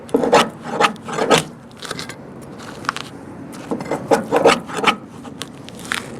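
Hand sanding of the old padded vinyl roof on a 1975 Cadillac: close, raspy rubbing strokes arriving in uneven bursts with short pauses between them, no voices.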